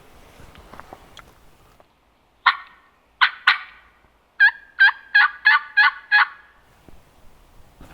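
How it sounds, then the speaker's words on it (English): A wild turkey gobbles outdoors in the chilly early morning of a spring hunt: a few single gobbles, then a long rapid rattling gobble run, fairly close and loud, with no talk. "it just gobbled again"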